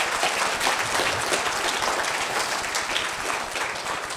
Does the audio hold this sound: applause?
yes